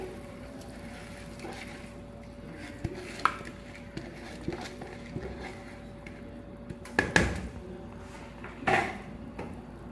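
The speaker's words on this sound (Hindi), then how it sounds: "अच्छी तरह से हिलाएंगे।" A utensil stirs rice, scraping and clinking against a metal pot of water in scattered strokes, with a few louder knocks, set against quiet kitchen background noise.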